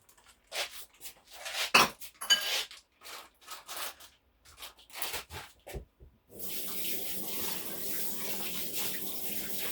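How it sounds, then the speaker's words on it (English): Hands being washed under a running kitchen tap: first a series of splashes and irregular bursts of water, then a steady continuous stream of running water, close and moderately loud. "so I just wash my hands"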